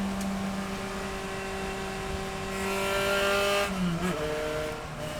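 A race car engine at Sonoma during a safety car period, a steady droning hum at moderate pace with a brief rise in revs and a small dip near the end, fairly distant and constant.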